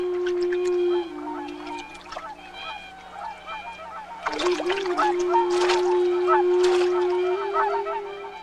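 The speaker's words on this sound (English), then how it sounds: "Known in Japan as ohakucho, or the big white birds" Whooper swans in Hokkaido, Japan, preparing for their spring migration north, give a flock's loud overlapping honking calls, several birds bugling at once with a few splashes of water nearby.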